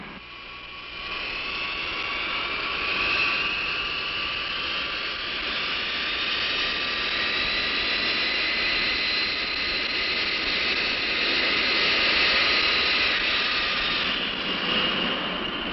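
Jet engines of air cargo aircraft at a large airport, a loud, steady roar with a high whine above it that swells slightly and stays continuous throughout.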